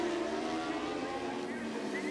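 Onboard engine of a senior production racing motorcycle at Cemetery Circuit, a steady, loud, sustained drone with a high tonal whine and no breaks.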